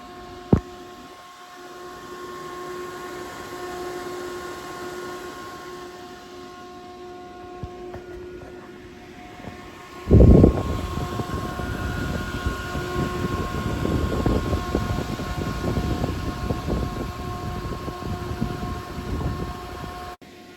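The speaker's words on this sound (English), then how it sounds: "Noctua NF-A14 Industrial IPC 3000 RPM fan." A Noctua NF-A14 Industrial IPC 140mm fan at 3000 RPM, a quiet hum that jumps abruptly midway into a loud, steady rushing whoosh of airflow, with faint tonal whine throughout.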